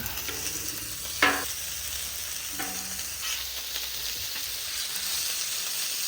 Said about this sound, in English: I want to get the sausage. I'm going to put them on this side.